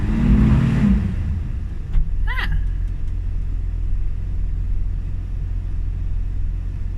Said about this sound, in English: that's not a misfire, that's just the engine warming up